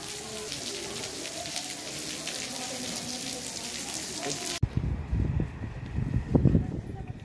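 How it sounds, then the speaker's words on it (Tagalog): Light rain falls at Paoay Lake in Ilocos Norte, a steady soft patter for several seconds before the sound cuts to a closer voice talking over quieter surroundings. "Medyo umuulan ngayon,"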